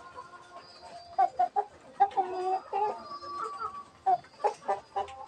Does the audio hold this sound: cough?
no